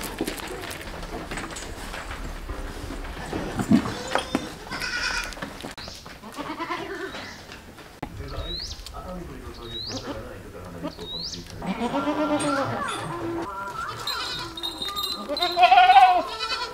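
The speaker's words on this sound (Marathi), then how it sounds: "हा बघितला तर हा एक मोठा बोकड आहे." Goats bleating on a commercial goat farm with goats of various colours and a large buck, several short nasal bleats repeating over steady barn ambience and voices talking nearby.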